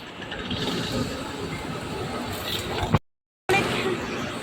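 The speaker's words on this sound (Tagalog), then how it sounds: "Ayan yung train." A train bound for Malaysia rumbles steadily with a continuous rolling wash of noise, then cuts out briefly before resuming.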